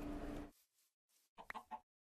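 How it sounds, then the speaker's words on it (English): A Minecraft chicken gives a few short, soft clucks after a brief burst of noise, faint and sparse within a couple of seconds. "hello, chicken. You're my first meal."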